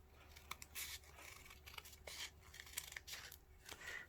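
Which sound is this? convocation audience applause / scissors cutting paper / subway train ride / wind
scissors cutting paper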